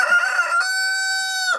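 A rooster in a chicken coop crows once, loud and close, a single drawn-out cock-a-doodle-doo with nothing else heard.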